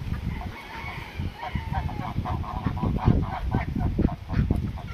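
Free-ranging geese honk repeatedly in strong wind, a chorus of close, irregular calls over a rough, blustery rumble.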